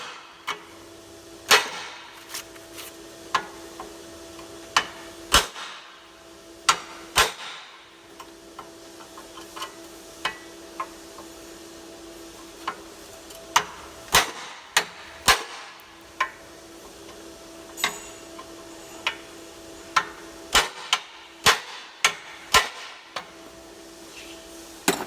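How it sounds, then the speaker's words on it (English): Sharp metallic knocks of a chisel knocking off rivet heads on a Yeats dolly strike at irregular intervals, sometimes in quick pairs, each ringing briefly against a quiet hum. "you're knocking off the head of each rivet"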